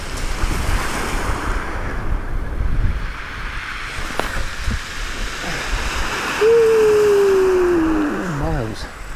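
Steady wind gusts roaring across a Suffolk beach while sea fishing for dab, a broad continuous rush with surf beneath it, and a brief tonal whistle or hoot near the end.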